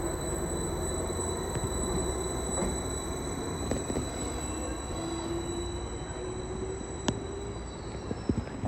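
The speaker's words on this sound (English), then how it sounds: "As 755414 now departs for Felixstowe" Class 755 unit 755414 pulls out of Ipswich station bound for Felixstowe, its wheels squealing on the rails under a steady rumble and a sharp clank near the end.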